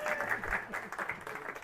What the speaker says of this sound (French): Mais je vous demande d'applaudir Samy.